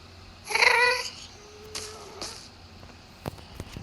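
A Minecraft ghast's wailing, cat-like cry rises and falls for about a second, followed by quieter tones and a few sharp clicks.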